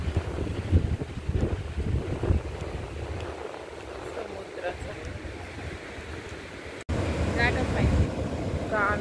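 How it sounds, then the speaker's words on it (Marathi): Sea waves and strong wind at night on Nagaon beach in Alibaug, with a steady rushing roar and heavy wind buffeting against the microphone, continuing beneath voices throughout. "फक्त समुद्राचा आवाज येतोय"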